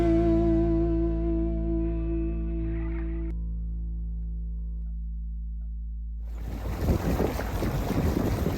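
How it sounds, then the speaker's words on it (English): Motor vessel cruising the still Erie Canal, a low steady engine drone under fading tonal hums, then rushing wind and water noise swelling for the last couple of seconds. "So lovely cruising on the Erie Canal today."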